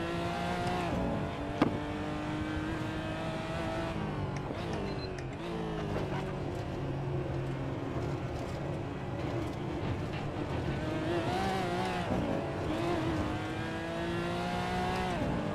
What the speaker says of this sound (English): Jeff, did you augment the sound of the engine as well